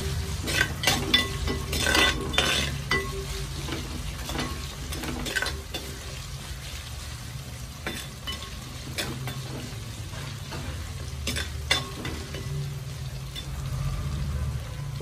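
Ginger and garlic frying in oil, a two-inch piece of ginger with a whole bulb of garlic, give a steady close sizzle under repeated stirring scrapes and occasional light metallic clinks of a utensil against the pan.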